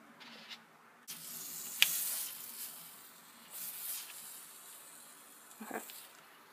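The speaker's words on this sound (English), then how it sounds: "If it sizzles, it just means the water is touching the iron" Water hissing and sizzling against a hot hair straightening iron on an American Girl doll's wet hair, soft intermittent crackling bursts with a couple of sharper spits, close and quiet.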